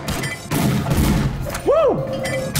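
Guns firing in Brawlhalla: several quick close pops and booms in short succession, mixed with a brief rising and falling game tone and light effects.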